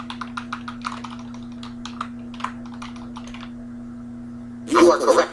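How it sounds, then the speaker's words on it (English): Computer keyboard keys click in quick, uneven bursts while someone plays a trivia video game, with a steady hum underneath and a loud burst of voice from the game at the end. "I'm actually not using a controller to play this game. I'm using my keyboard."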